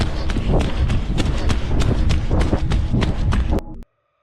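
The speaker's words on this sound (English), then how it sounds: "The footsteps grew louder, drawing closer each time." Running footsteps pound rapidly and loudly close by in a dense, continuous stream of thuds, then cut off abruptly near the end.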